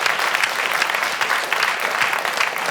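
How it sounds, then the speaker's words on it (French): An audience claps loudly and steadily, a dense wash of applause filling the room without a break. "À côté de toi, Ali Rabet, qu'on peut applaudir bien fort également"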